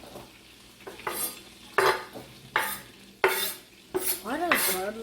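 Celery, onions and garlic sizzling in a pan, with a utensil scraping and clattering in bursts over a soft, steady fry; nobody speaks.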